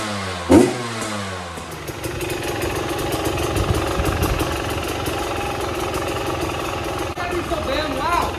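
A 2022 KTM 300 TPI two-stroke motorcycle engine runs loud and steady nearby on a test ride, with a sharp blip early and sustained revving throughout, voices speaking over it.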